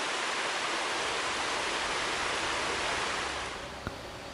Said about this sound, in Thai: จะเห็นว่าน้ำก็จะไหลเป็นลำธารลงไปด้านล่าง